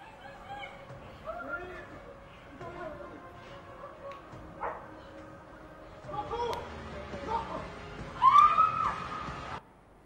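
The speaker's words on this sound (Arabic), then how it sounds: "قاعدين يصورون بامرأة تلتهمها الكلاب السائبة" Stray dogs attacking a woman, with yelping, barking and whimpering dog sounds rising in bursts, strongest near the end, mixed with voices and screams throughout.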